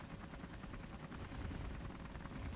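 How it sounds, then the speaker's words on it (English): Turret guns blaze away in a video game's combat, a dense, steady rattle of rapid fire mixed with rumbling blasts, continuous and moderately loud throughout, with no talking over it. "forward-facing guns are firing at it"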